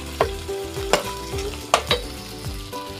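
Corn is sautéed in a pan, with a handful of sharp spatula scrapes and clacks at an uneven pace over a soft background sizzle; nobody talks.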